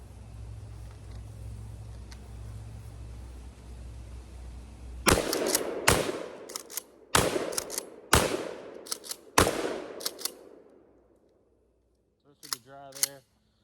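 A cheap $120 shotgun fires birdshot rounds, five loud, sharp blasts spaced about a second apart. Each shot leaves a short decaying echo, followed by quieter mechanical clacks at the end.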